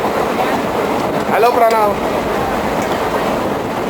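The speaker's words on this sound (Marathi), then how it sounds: "ही ट्रेन आहे" A passenger train rumbles steadily along its rails with a constant broad roar heard from inside the carriage, and a brief squeal and a short spoken greeting break in midway.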